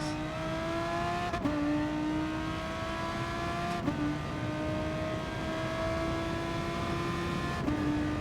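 Honda NSX race car in GT Sport, engine droning steadily at high revs with smooth rising pitch and three quick gear-shift dips, loud and continuous with no talk.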